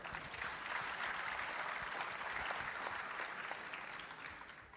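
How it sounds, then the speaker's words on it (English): An audience at an international tourism investment forum applauds the speakers, a dense, sustained round of clapping from a large hall, moderately quiet and steady before tapering slightly at the end. "I would like to invite everybody to give a big round of applause for all of them"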